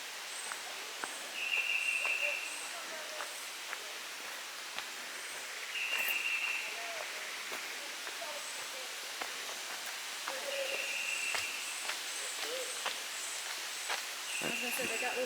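Birds sing in shaded woods along a forest path, repeated high trills and chirps from several directions, fairly faint against a quiet background with occasional rustling.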